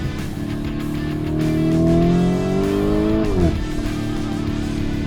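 A Lamborghini Urus Performante on a race track in Rome, engine droning steadily with a rising then falling tone as it passes at a moderate 80–100 km/h, loud and close with no talk.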